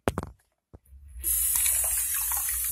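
Tap water gushes loudly and steadily into a sink, filling a toy baby bottle; a few short knocks and handling sounds come just before the flow starts.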